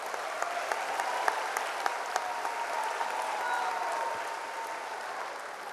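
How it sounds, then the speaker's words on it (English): Steady, even applause from a large audience at a high school graduation ceremony, filling the hall with dense clapping and a few sharper claps standing out. "Yes, give them a round of applause."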